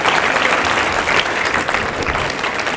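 A university audience at a live leadership keynote gives itself a round of applause, a thick, continuous burst of clapping heard close and loud throughout.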